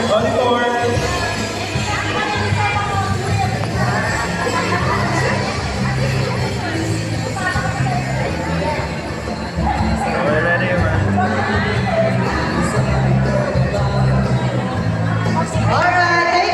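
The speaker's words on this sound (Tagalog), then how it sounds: "Isang malakas na hiyawan!" A crowd at a dance contest during a community event cheers and shouts continuously, a loud dense mass of voices with music-like tones underneath, dipping briefly midway and then swelling again.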